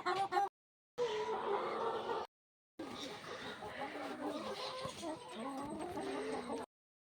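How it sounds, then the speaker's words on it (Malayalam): Backyard hens, not yet given their morning feed, cluck and squawk nearby in a lively, continuous chorus broken by short gaps, with people talking over them. "കോഴിപ്പിള്ളാരുടെ പാട്ട് കേട്ടോ രാവിലെ തീറ്റ കൊടുത്തില്ല അതിന്റെ പാട്ടാ"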